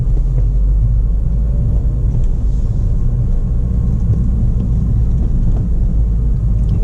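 A manual car's engine pulls after a gear shift, a loud steady low rumble and drone from inside the cabin that holds level throughout, with no talking.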